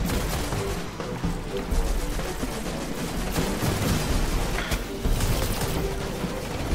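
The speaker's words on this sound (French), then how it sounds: "Là, il essaye de me sniper." Sniper and other gunfire in the Destiny House of Wolves game, a dense continuous wash of shots and battle noise with a few sharper cracks standing out, loud and steady throughout.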